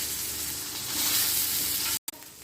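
Chicken leg pieces fry on a tawa with a loud, steady, close sizzle that swells slightly midway, then cuts out briefly near the end before resuming.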